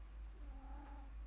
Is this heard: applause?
no